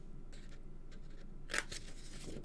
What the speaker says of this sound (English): So now let's trim up our corners.